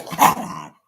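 A single sharp dog bark, close and loud, with a slightly growly edge, ending abruptly into silence.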